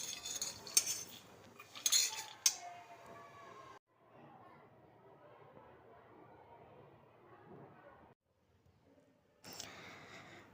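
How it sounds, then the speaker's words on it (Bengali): Peanuts being fried in a pan at home, with clinking of a metal utensil against the pan and a soft rattling stir, some bursts louder than others, separated by quieter gaps. "এই যে বাদাম ভাজছি"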